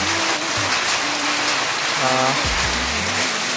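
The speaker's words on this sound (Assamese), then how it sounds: "চাওকচোন বহুত বৰষুণ দি আছে" Dense, steady rush of heavy rain, with a few faint tonal sounds passing underneath.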